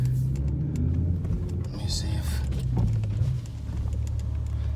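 A BMW E60 M5 running with no catalytic converters gives a low steady idle rumble, close and even throughout, with someone talking briefly over it.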